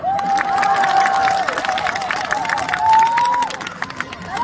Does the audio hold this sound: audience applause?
yes